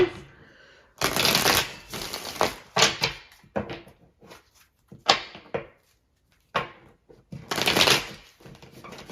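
Crisp bursts of tarot cards being shuffled, several riffles in quick succession separated by short pauses, close and clear.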